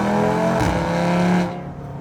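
An Audi RS3 five-cylinder engine, 600 horsepower with a stock turbo and running an ethanol blend, pulls hard under acceleration, its loud, steady rising drone filling the cabin before easing off near the end.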